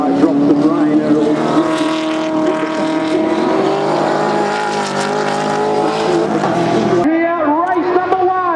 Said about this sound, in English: race number 1 of the Biante Touring Car Masters, and John Bow leads them down into turn 1.